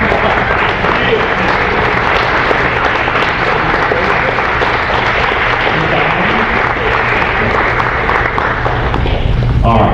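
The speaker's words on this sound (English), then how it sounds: "we need to give you all an applause" Crowd at an Eastern Kentucky infrastructure announcement applauds congressional staff, steady dense clapping filling the room for the full stretch, loud and close, with some voices mixed in.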